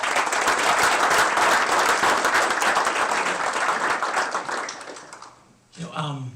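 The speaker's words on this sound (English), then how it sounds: "Big round of applause for all of them, please." Loud, sustained applause from an audience at a university Founders' Day ceremony fills most of the clip, dense and steady before tapering off, with a voice coming in at the end.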